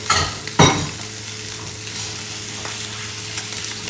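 Crispy snapper fillet coated with chaat masala cooks in a hot pan, giving a steady close sizzling hiss with a couple of sharp utensil clatters near the start and no voices.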